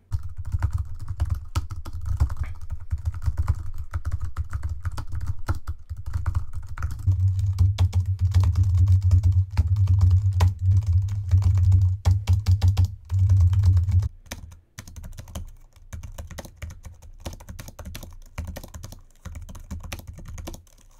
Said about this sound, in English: when you're mashing your keyboard